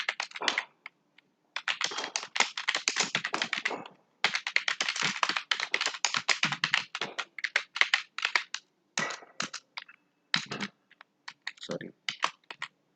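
Rapid clattering keystrokes in bursts with short pauses, close and fairly loud, like typing on a computer keyboard; no voices.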